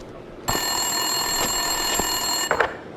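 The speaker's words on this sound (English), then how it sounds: "Winterson's phone was ringing." Winterson's desk phone rings in Max Payne 2, an electronic ring that starts abruptly, holds steady with faint knocks underneath, then breaks into a brief cluttered burst near the end, close and loud with no speech.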